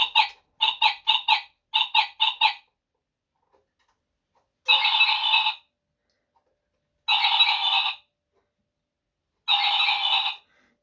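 A modern clock chimes electronic bird-call melodies: first a quick run of short chirping bursts in small groups, then three longer trilling calls separated by silence, clear and close with nothing else around.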